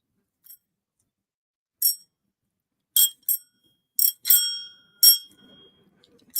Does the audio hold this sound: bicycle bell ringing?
yes